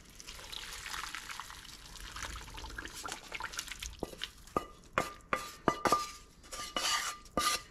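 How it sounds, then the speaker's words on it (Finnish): Broth for an elk cheek stew is poured into a stew pot with a soft liquid splash and stirring, followed by a run of sharp metallic clinks and knocks of utensils against the pot. "seuraavaksi voidaankin siirtää tuo liemi tonne pataan"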